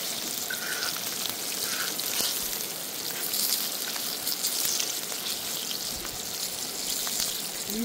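Crispy chicken fries in hot oil outdoors, giving a loud continuous sizzle and crackle with faint splattering pops, steady throughout and free of speech.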